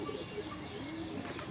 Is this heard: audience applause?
no